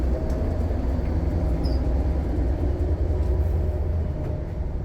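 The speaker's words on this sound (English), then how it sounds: "this is where the diesel engines are" Steady low rumble of the diesel engines on a Greater Anglia train, a continuous drone with rail noise running unbroken and fairly loud throughout.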